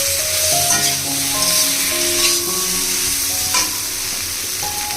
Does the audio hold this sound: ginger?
yes